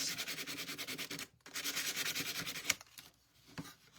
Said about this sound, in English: just give this little tab area a quick sand